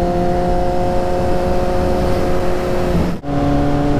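A Kawasaki Z800e motorcycle pulls hard, its engine note droning steadily under rushing wind before a brief cut for a gear change, after which the engine picks up again at a lower pitch.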